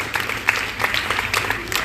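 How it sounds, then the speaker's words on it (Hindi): A school audience at a Republic Day function claps for a student, with scattered, uneven hand claps and a steady background hum through a short stretch. "भूमिका जसरोटिया के लिए भी तालियों से स्वागत होना चाहिए।"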